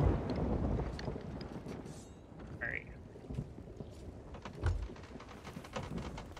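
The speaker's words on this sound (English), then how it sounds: "We are setting sail." A sailing ship under way in the pirate game Sea of Thieves, with rushing wind and water wash, low rumbles and creaks, and someone talking over it.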